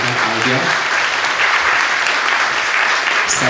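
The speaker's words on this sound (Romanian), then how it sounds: "În aplauze dumneavoastră, invitatul acestei seri, Părintele Dr." An audience at an evening lecture bursts into sustained, dense applause welcoming the guest speaker, a priest, with a short stretch of voices briefly heard over the clapping at the start.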